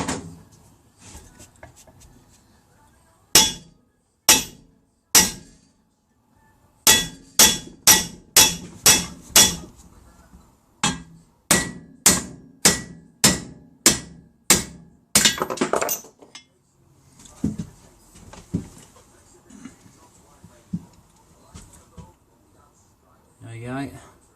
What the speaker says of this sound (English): probably a bit of persuasion with the hammer now